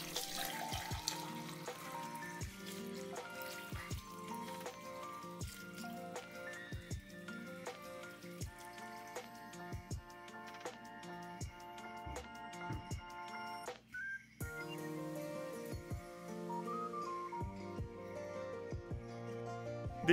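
Water pours steadily into a shallow 45 x 30 x 10 cm Aqullo Super Clear desktop aquarium holding driftwood and stones, a continuous splashing trickle running the whole time beneath background music.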